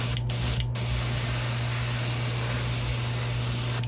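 A spray can painting a piece lets out two short hissing bursts, then one long continuous spray, close and loud over a low steady hum.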